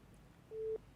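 Telephone line disconnect tone on a live TV phone-in discussion: a single short steady beep rising above a quiet, hissy background, fairly faint.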